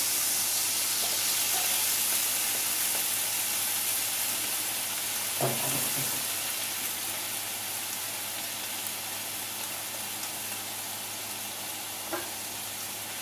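Half a tin of beans reduces in a pan as part of Spanish tapas, a soft, steady simmering hiss with faint occasional pops and one brief clatter, quiet and continuous with no talking.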